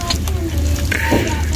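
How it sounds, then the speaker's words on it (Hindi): Fish frying in a pan over a wood-fired clay stove, a steady sizzle running close and continuous under a low crackle, with a voice speaking briefly partway through. "यहाँ पे मछली फ्राई हो गया"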